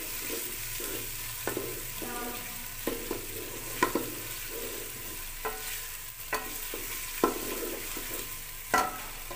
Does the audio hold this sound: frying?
yes